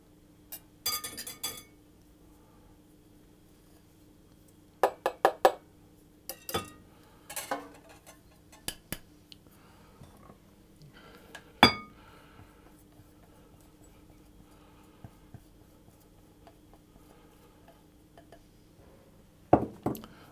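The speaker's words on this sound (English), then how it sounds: "stir it around to get that mixed in" A spoon stirs a homemade raspberry ruffle and coconut mixture in a bowl, giving scattered sharp clinks and short scraping bursts up close, with quiet gaps between strokes.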